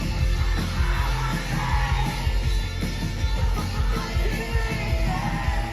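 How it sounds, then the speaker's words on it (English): A New York concert crowd at a gig screams and yells loudly and continuously through the final chorus, a dense roar of many voices filling the whole stretch. "The crowd are screaming at the top of their lungs."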